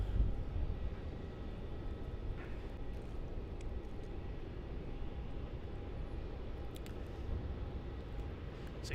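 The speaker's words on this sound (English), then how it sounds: "So QF29 is about to turn onto the runway and begin its 9-hour journey to Hong Kong." A Qantas airliner, flight QF29, taxiing toward the runway at Melbourne Airport produces a steady low engine rumble heard from a distance, continuous and even with no talk.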